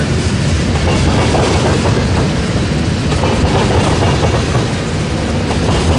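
An eastbound manifest freight train rolling into Fremont, Nebraska, with loud, continuous rumbling and rhythmic wheel clatter from cars passing close by.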